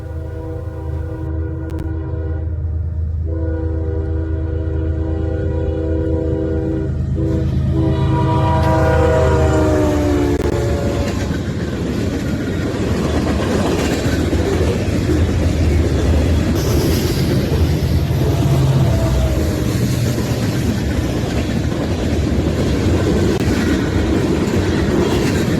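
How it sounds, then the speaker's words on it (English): CSX Q367 freight train led by a KCSM ES44AC locomotive with KCS power, horn blasts sounding over the rumble of the diesel, then the steady roar and rattle of freight cars rolling past close by. "Next we have CSX Q367 with some solid KCS power. The lead unit is a KCSM ES44 AC."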